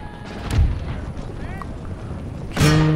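Scattered booming musket and cannon fire from an Empire: Total War battle, with one strong blast near the start and another toward the end over a rumbling battlefield din.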